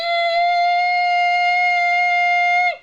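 A voice hums a steady, buzzy drone imitating a Black Hawk helicopter, held for nearly three seconds at even loudness before cutting off abruptly.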